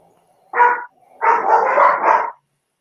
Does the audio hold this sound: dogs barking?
yes